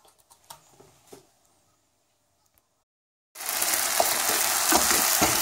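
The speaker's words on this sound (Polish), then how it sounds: "grzybki smażymy na cebulką wcześniej podduszoną na masełku" Forest mushrooms hit a hot pan of onion softened in butter, and after quiet handling noises a loud, steady sizzle and crackle of frying starts abruptly and keeps going.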